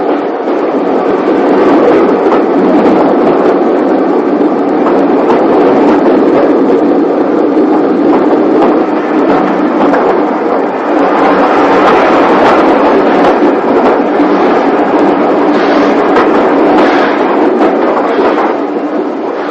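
A passenger train runs along a British railway line in the early 1960s, a loud, continuous rumble of wheels and carriages with faint rhythmic clatter rolling on without pause for nearly twenty seconds.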